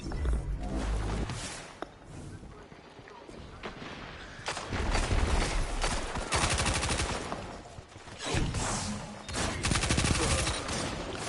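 Shotgun and other gunfire in Destiny 2 multiplayer, loud booming blasts and rapid volleys coming in dense clusters throughout, with a player's voice mixed in.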